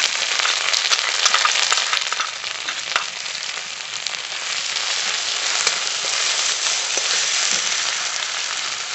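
Whole spices fry in hot oil as the tempering for Bengali chana dal, a bright, continuous crackling sizzle with fine popping, close and steady throughout with no voices.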